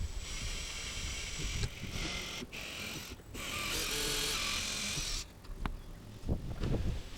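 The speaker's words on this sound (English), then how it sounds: "take my drill bit, drill my holes." A power drill boring holes in wood for dowels at a casement window whines steadily at high pitch, briefly pausing and restarting, then cutting off near the end amid some handling noises.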